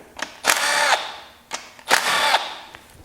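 Power tool spinning out the bolts on either side of the oil pump on a Chrysler 3.2/3.6 Pentastar engine, two close, loud whirring bursts of about half a second each with brief clicks between, alone without talk.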